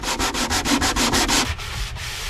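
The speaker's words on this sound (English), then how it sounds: "I need to do a little hand sanding because I let this get wet." Rhythmic hand sanding on mahogany to remove water stains, a quick series of scratchy back-and-forth strokes, close and steady, slowing to a few lighter passes at the end.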